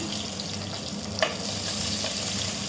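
Fenugreek seeds, mustard, cumin and small shallots frying in hot oil for a Tamil brinjal kara kuzhambu, a steady soft crackle and sizzle with one sharper pop partway through, no voices.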